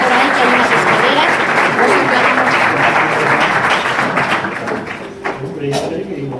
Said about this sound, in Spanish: Pues para Angelines un fortísimo aplauso.